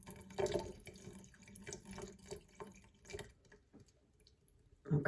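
Water is poured slowly off tomato seed pulp in a container, giving soft irregular splashes and trickles with a few louder sloshes at the start and end, close by and with no talk.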